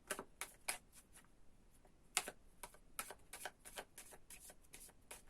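Cards are shuffled quietly, a soft irregular patter of light taps and flicks, faint and close.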